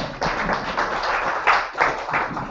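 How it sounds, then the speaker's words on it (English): A round of applause from the audience at a British Chess Championship prize moment fills the space with steady, fairly close clapping from a small crowd, swelling slightly in bursts. "Round of applause for our friend there."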